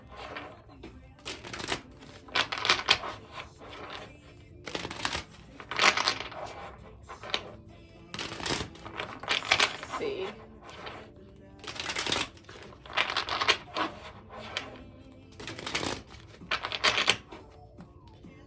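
Tarot cards shuffle in repeated crisp riffling bursts, close and fairly loud, separated by short pauses, with a voice speaking briefly between them.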